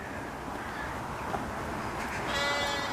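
Sheep bleat outdoors in a rural field, a drawn-out nasal call rising near the end over steady background wind and ambient noise, with no voices.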